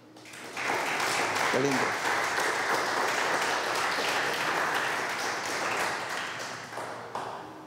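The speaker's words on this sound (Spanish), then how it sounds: "¿No le dan ganas de darle un aplauso al Señor?" Church congregation applauding for the Lord during a sermon, a sustained wash of clapping that rises quickly and holds steady, with a brief voice speaking over it.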